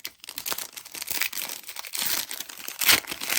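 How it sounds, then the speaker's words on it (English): A matte foil trading card pack is torn open by hand, producing close, continuous crinkling and crumpling of the wrapper with sharp tearing bursts, and no voice. "let's open some cards. Nice little matte pack."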